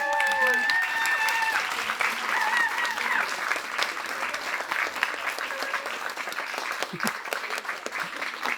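After the team takes the stage at a challenge finals, a large audience applauds with dense, sustained clapping that holds steady from start to end, and a voice talks briefly over it at the beginning.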